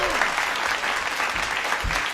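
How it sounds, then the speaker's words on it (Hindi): An audience claps steadily and densely throughout, a full wash of applause with some voices mixed in. "तालियां हो जाए साहब।"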